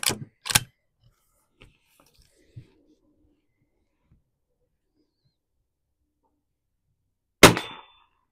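Shots from a .22 rifle fired at a target during a quiet-ammunition comparison of CB, short and subsonic rounds: two sharp close cracks at the start, a few faint ticks and knocks, then a long lull before one more loud report.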